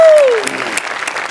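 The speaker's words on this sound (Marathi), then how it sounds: "श्यामेसाठी एकदा टाळ्या वाजवल्या पाहिजे" A studio audience at a Marathi TV comedy show breaks into dense, sustained clapping right after a short descending electronic tone, the applause staying steady and close for the whole moment.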